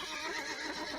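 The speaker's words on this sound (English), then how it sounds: "The horses in the stables felt the danger. They were frightened and were neighing loudly and kicking at the doors." Horses neigh loudly in frightened stables, a faint, continuous whinnying that stays steady and blurred for a brief moment, with no talking.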